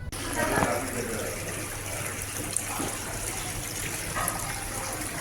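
Water trickles and splashes steadily beside a small tree in a restaurant's decorative water feature, a continuous gentle flow heard at close range beneath faint background murmur.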